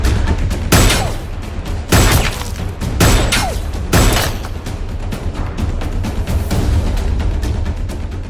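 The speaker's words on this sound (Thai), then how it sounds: "เสียงปืน" Gunfire in a Thai TV drama: several sharp, loud shots at irregular intervals, each a sudden burst with a short decay, standing alone without talk.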